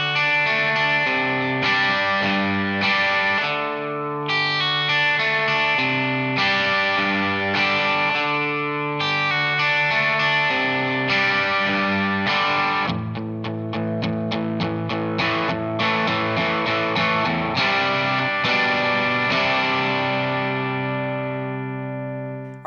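An electric guitar with distortion and chorus effects plays the bridge of a song, strummed chords then a quick arpeggiated lick, loud and alone, fading at the end.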